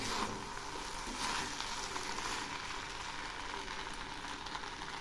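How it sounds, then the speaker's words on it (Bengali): Prawn pulao being stirred in a pan, a continuous dense sizzling hiss that stays fairly even and moderately quiet throughout, with no distinct strokes and no voices. "এখন এইভাবেই ঘন ঘন নাড়তে থাকবো।"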